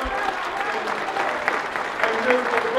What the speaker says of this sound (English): please give a big round of applause for the brothers and nephew of George Floyd,